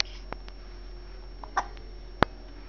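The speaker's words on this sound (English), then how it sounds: "You got the hiccups?" A baby hiccups a few times, short soft catches spaced across a quiet room, with one sharper hiccup near the end and no speech.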